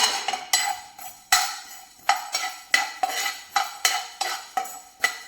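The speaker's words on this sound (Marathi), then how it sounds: "इथे आपण फक्त अर्धा मिनिट बरंच मेथी भाजून घेणार आहे" Fenugreek seeds dry-roasting in a pan are stirred with a metal utensil in about ten quick, rhythmic scraping strokes, each a sharp rattling swipe that trails off, close and clear with no talking.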